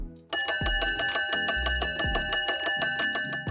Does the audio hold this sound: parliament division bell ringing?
yes